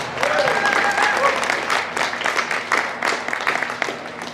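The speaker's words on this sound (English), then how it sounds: "applause." Spectators at a Jersey cattle show applaud the exhibitors, a broad rattle of clapping in a large hall, with a voice and some background sounds mixed in at the start.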